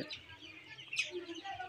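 Young Sonali chickens, 29 days old, give soft, faint clucks and chirps in short, scattered bursts.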